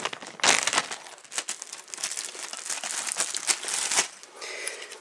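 Plastic Ziploc bags holding labeled wiring connectors for an off-grid tiny house solar setup crinkle and rustle steadily as they are handled up close, with sharper crackles throughout and no talking.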